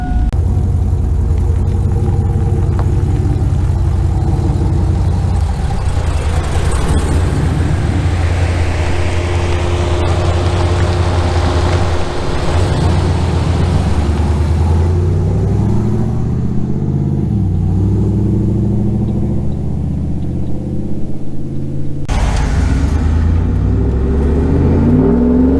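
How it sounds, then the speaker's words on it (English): A loud car engine with a true dual axle dump exhaust revs and accelerates through its gears, the exhaust roaring and rising in pitch, then dropping off sharply near the end, in rain. "that exhaust sounds so good"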